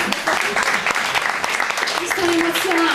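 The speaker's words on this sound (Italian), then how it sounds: "Facciamo un applauso." Audience applause for a singer at a Fnac store event in Verona, a dense, continuous burst of clapping from a nearby crowd with voices mingling underneath.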